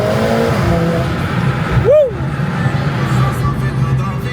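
A car climbs through a scenic mountain road in Kabylie, Algeria, its engine a steady broadband drone with a brief swelling surge near the middle, while people talk inside the car.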